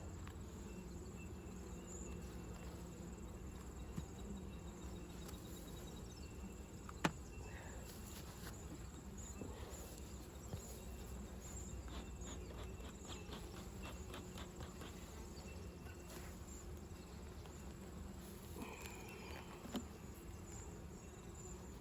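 Honeybees hum in a faint, steady drone across beehive frames during a hive inspection. The sound is continuous and soft, with a few small taps and clicks scattered through it.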